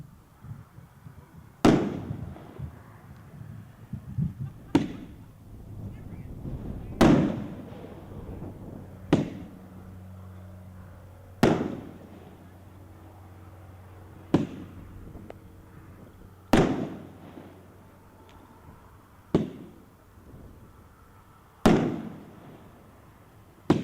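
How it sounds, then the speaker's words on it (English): Willow's Bombardment, a consumer firework display at a dealer show, fires a series of sharp booming shots spaced a few seconds apart, each ringing out and decaying outdoors, with faint crackle between bursts. "Next one up is Willow's Bombardment."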